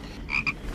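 A human voice imitating a frog croak: two short, nasal croaks in quick succession, close and clear, with no other sound around them.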